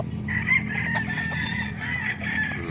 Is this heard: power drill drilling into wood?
no